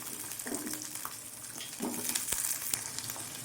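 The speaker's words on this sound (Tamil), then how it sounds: "இப்போது வெங்காயம் நல்லா வதங்கட்டும்." Small shallots sauté in oil for onion chutney, making a quiet, steady sizzle with occasional soft stirring clicks and taps close by.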